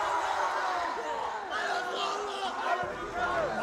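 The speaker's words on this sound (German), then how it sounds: "Der Jubel über den 20:18 Erfolg über Favorit Berlin riesengroß." A handball team and its supporters cheer loudly after a 20:18 upset win over favourite Berlin at a youth state-team cup tournament, with excited shouts and overlapping voices filling a hall throughout.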